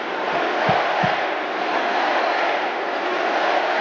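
Convention crowd at the DNC cheering and roaring before Kamala Harris speaks, a dense continuous wall of crowd noise with a couple of brief low thumps near the start.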